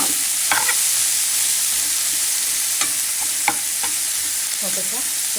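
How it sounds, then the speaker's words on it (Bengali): Onion frying lightly in a little oil in a pan, with a loud, steady close sizzle and a few sharp scraping strokes of a spatula stirring through it. "তো পেঁয়াজটা একটু হালকা তেলে ভেজে নিলাম।"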